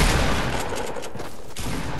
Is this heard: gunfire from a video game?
yes